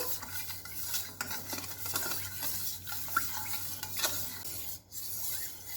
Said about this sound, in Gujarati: હવે આ ખાંડને બરાબર આપણે મિક્સ કરી દઈશું।